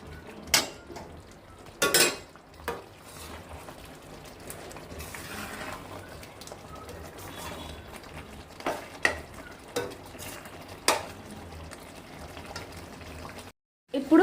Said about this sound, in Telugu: ఇది వేసుకొని బాగా మిక్స్ చేసుకుందాం